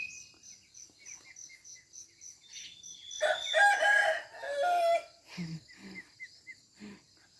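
A rooster crows once, loud and close, in the morning after heavy rain, followed by a few short clucks, over a steady background of chirping crickets or insects.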